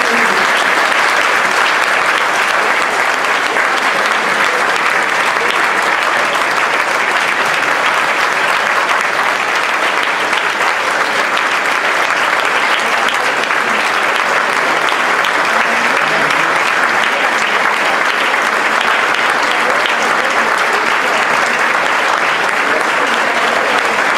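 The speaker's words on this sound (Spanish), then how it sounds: "Así, con aplausos y de pie," Sustained applause from a large audience rising to a standing ovation at a Dominican history congress, a dense steady roar of clapping that stays loud and even throughout, with no break.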